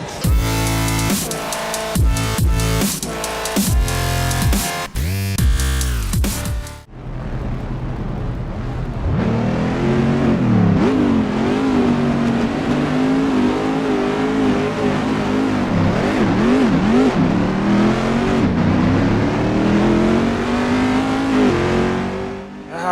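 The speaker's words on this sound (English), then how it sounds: "These cars sound so good." Chevrolet Corvette C6R race car engines in the video game Assetto Corsa at Imola roar and rev loudly and continuously, with rising and falling pitch as gears shift, preceded by a brief burst of music.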